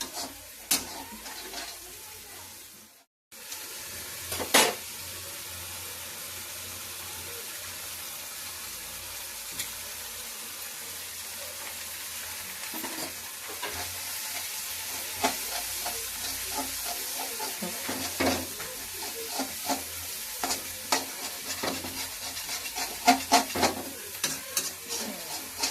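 Carrots and egg frying in a pan for chow mein, a steady broad sizzle running throughout with frequent stirring scrapes and clatters, a brief dropout near the start, no talking.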